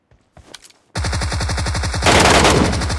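A Tommy gun fires in a video game, a fast, loud, evenly spaced burst of automatic shots that swells into a denser roar near the end, after a brief quiet start with a few faint sounds.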